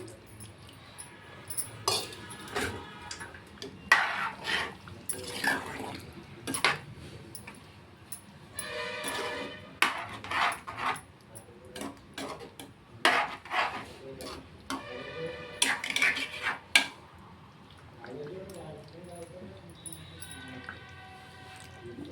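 Gram flour mixed with a spoon of water is tipped into a cooking pot and stirred in, giving scattered wet squishes, spoon scrapes and light clinks against the pot, close and moderately loud, with brief quieter gaps.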